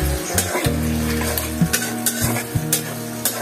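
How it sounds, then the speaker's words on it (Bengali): Ginger, turmeric, chili and salt stirred and fried in a pan for dal bhuna, with a close, continuous sizzle and the spoon scraping and knocking against the pan every second or so, no talking. "কষাতে হবে, নাড়াচাড়া দিতে হবে।"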